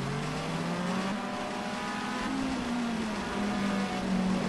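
Race cars lapping the Albi circuit during a 2012 championship heat, a steady loud engine drone with shifting pitch as cars pass close by, continuous and without pauses.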